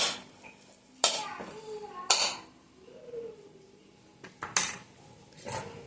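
Rice tipped into a pan for egg rice and stirred, with several sharp metallic clatters of spoon against pan spaced through the stretch and faint kitchen background between them.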